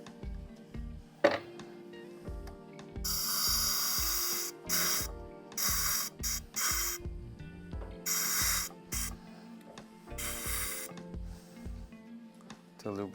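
A lubricant spray is applied to a tire mounted on a TC-612A tire changer, giving several short, loud hissing bursts with gaps between them while someone talks throughout.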